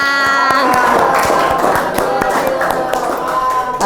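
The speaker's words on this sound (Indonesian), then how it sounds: "kasih tepuk tangan" A class closing its farewell session with applause, a crowd of hands clapping loudly and steadily, close by, with sharp individual claps and a murmur of voices underneath throughout.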